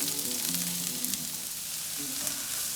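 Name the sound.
onions frying in a small amount of oil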